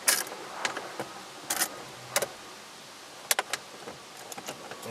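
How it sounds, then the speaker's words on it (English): A socket wrench loosens the four 10mm bolts holding the radio in a 2005-2008 Toyota Matrix dash, giving short, close ratcheting click bursts separated by pauses. "There are 4 10mm bolts holding in the radio. I find it easier just to loosen them."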